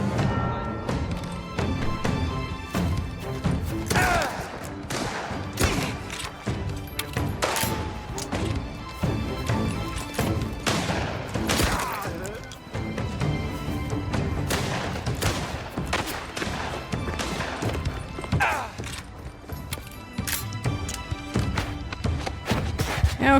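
Gunfire and grenade blasts in the video game Mafia: The Old Country, with dense, continuous thumping shots and crashing impacts filling the scene, loud and busy under a music-like background with no voices.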